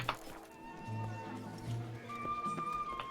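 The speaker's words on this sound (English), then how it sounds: "Ah, Rochi. My man. My horse." A horse in the video game The Witcher 3: Wild Hunt, Blood and Wine, gives a whinny amid soft hoof clip-clops, moderately close, with game ambience and someone talking over it.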